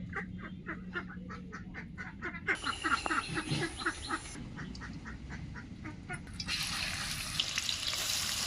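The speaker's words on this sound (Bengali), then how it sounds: "এই পেঁয়াজটা আমি মুচি মুচি করে ভেজে নিচ্ছি বেরেস্তা করার জন্য।" Thinly sliced onions fry in hot oil for birista, a steady close sizzle broken by clattering stirring strokes that swells into a louder, denser hiss near the end.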